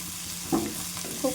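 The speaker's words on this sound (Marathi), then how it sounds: "आणि शिमला मिरची टाकून घेऊ. हे पण छान परतून घेऊ तेलामध्ये." Capsicum stir-frying in hot oil for a gram-flour bhurji, a steady sizzle with a few brief spatula stirs and scrapes, close and moderately loud, with no talking.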